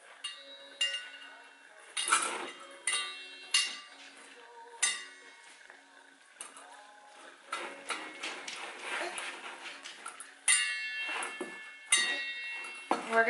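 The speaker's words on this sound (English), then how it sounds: "Now Mommy's gonna mix this up" Homemade play dough being mixed in a bowl: a steady series of light clinks and scraping taps from a utensil against the bowl, irregular and close, growing busier toward the end.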